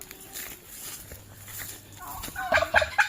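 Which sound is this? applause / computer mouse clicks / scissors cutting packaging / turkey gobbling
turkey gobbling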